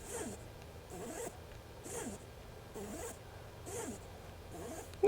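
Techart LM-EA9 adapter's autofocus motor driving a Leica lens on a Sony A7IV, a faint whirring buzz repeating about once per second as it moves back and forth, quiet and close.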